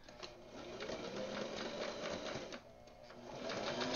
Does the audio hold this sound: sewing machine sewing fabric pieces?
yes